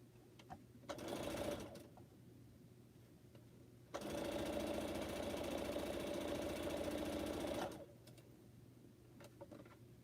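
A sewing machine stitching pineapple quilt blocks runs in two loud bursts, one short and one lasting several seconds, with quiet gaps and faint ticks between them.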